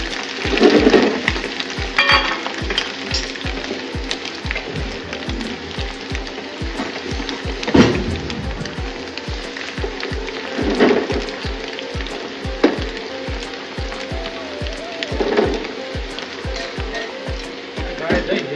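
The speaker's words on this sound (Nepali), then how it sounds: "यसलाई चाहिँ हल्का रातो रातो है नट डिप नट क्रिस्पी हल्का फ्राई गरेर चाहिँ निकाल्छौँ यसलाई" Plant-based veg lamb pieces fry lightly in oil until slightly reddish, with a soft background sizzle under a steady rhythm of low knocks and occasional louder clatters from stirring.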